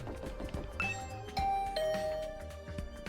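A doorbell rings in the video game The Hundred Line -Last Defense Academy-, a clear two-note ding-dong chime ringing out over soft background music, with no talking.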